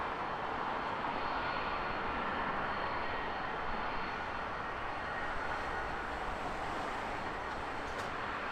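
Austrian Airlines Flight 331 from Vienna landing at Heathrow Airport, a broad, steady jet roar that stays even and dense throughout, heard from a distance with no talking.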